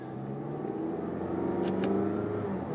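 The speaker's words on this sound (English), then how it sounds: "a little bit of a delay on the upshift" A 2016 Mazda 6 Touring with a six-speed automatic, shifted manually, drones steadily from inside the cabin, a continuous mid-pitched engine note that holds level through an upshift, with a brief faint high whine near the end.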